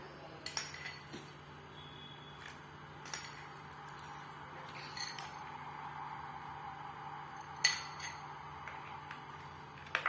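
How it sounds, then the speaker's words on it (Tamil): Ice cubes dropped into a glass of rose milk, giving a few sharp clinks spaced several seconds apart against a quiet kitchen background. "இப்ப வந்து ஐஸ் கியூப்ஸ் போட்டுக்கலாம்."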